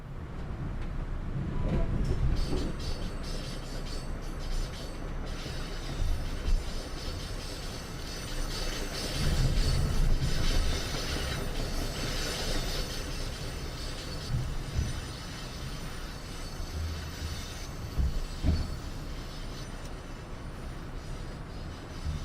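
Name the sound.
MBTA commuter train running at high speed, video game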